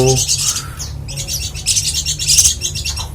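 Pleci (white-eye) parent birds squawk and chirp in an aviary, a near, busy run of harsh repeated calls filling the whole stretch, some overlapping, over a low steady background hum.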